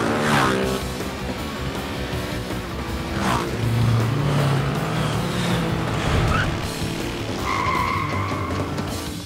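Cartoon motorcycle stunt with skidding tires and revving engine, loud and continuous with whooshing and squealing effects layered over a musical score.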